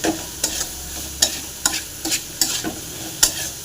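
Spoon stirring a water apple dish in a pan, with regular scraping strokes about twice a second over a faint, steady sizzle, close and moderately loud.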